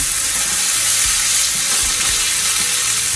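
Vegetables and potatoes fry in a pan with a dense, loud, constant sizzle, a few soft thumps of stirring underneath, close up and without any voices.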